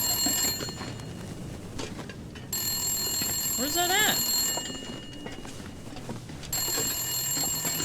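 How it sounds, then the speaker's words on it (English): Telephone ringing inside the video game The Long Dark, bright electronic ring bursts repeating in spaced on-off cycles across the span, with someone talking over part of it. "Oh my god, is that a phone? Oh, it stopped ringing."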